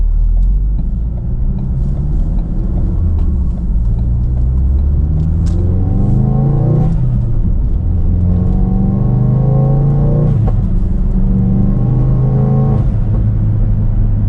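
A car engine rumbles deep and throaty through an exhaust with its valve open, rising and falling in pitch as it accelerates and shifts, loud and close with no talking.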